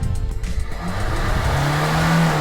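A Citroen C3 1.4 HDi diesel engine, in for a white smoke complaint with dripping injectors, is revved hard and settles into a steady high idle, loud and close.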